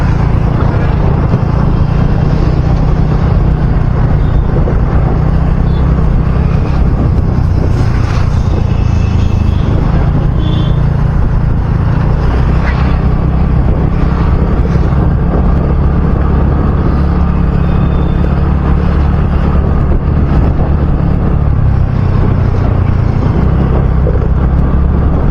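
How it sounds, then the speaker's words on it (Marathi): A vehicle drives along a city road in Ghansoli, its engine and road noise forming a loud, steady, unbroken rumble with wind noise, close to the microphone for the whole stretch. "चाललोय रस्त्याने गाडी चालवत"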